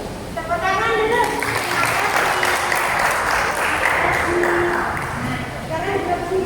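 Audience at a financial management training session applauding, a steady wash of clapping from a roomful of people, with voices and some cheering mixed over it.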